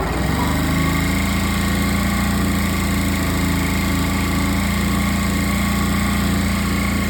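A small 3813 tractor engine with a somewhat worn motor runs loud and close in a steady idle, a constant buzzing drone with no talk.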